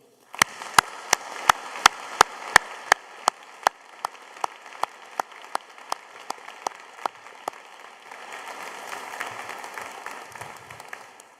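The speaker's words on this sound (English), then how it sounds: "You richly deserve the first of our many rounds of applause today." Applause for graduates at a graduation ceremony opens as a crisp, regular run of synchronized claps, then loosens into softer, scattered clapping from the crowd.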